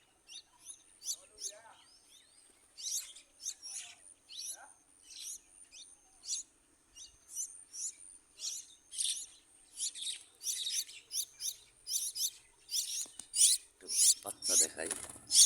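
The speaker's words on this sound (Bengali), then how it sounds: "এই যে পাখি বসে রয়েছে, বের হয়ে যাইতেছে আমাকে দেখে" Many small birds chirp around a cluster of nests holding chicks, quick high tweets coming in busy bursts that grow denser and louder toward the end, close by with a faint voice briefly underneath.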